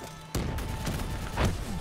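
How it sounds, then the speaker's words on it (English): Dense game combat from Call of Duty: Black Ops 3, with a loud burst of gunfire and heavy explosion booms starting abruptly and rolling on continuously, a big blast swelling near the end. "Action packed explosions all the way"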